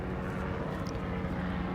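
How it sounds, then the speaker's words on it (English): A helicopter flies over downtown Kelowna, heard as a soft, steady, distant drone with no voices. "helicopter flying around here"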